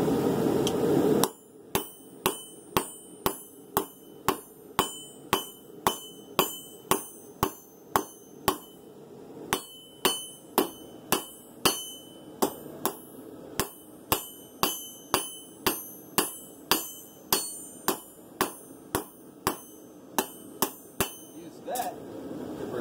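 Hammer forging a steel knife blade, roughly forty sharp ringing strikes in a steady, even rhythm with one brief pause midway, close and alone without talk.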